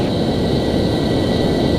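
Steady roar of an F-14 jet in flight in a flight simulator game, a dense continuous rumble with a faint high whine on top, loud and unchanging, no voices.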